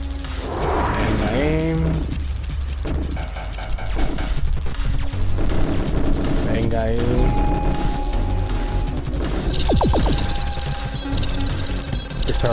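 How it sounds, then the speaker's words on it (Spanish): Triple-shot weapon fire in the retro arcade shooter Ultratron, with rapid synthetic blasts, zaps and crashing effects layered over game music while someone comments in Spanish throughout. "Disparo triple, dispara a todos los arañoides."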